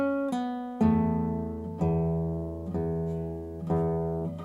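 Fingerstyle acoustic guitar playing an arrangement, with a handful of plucked chords struck about once a second over bass notes, each ringing and fading, close and solo.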